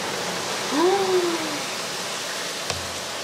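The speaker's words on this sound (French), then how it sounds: "Normalement, le genre de pluie comme ça dure pas." A heavy rain shower makes a steady broadband hiss. A voice gives a short rising-then-falling exclamation over it, and a faint click follows.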